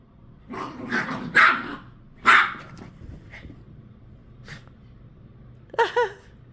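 Dogs playing, a few sharp barks and yips with some growling scattered across a few seconds, fairly close, with no talking.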